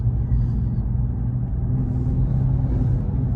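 A BMW M240i (2022, JB4-tuned) engine hums in a steady, deep in-cabin drone under light throttle, with a continuous low rumble and no talking.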